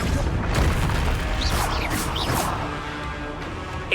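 Confringo fire spell explosions in the Hogwarts Legacy video game, a dense run of booming blasts and crackling impacts layered under busy game effects and a continuous clatter of action, loud and close throughout.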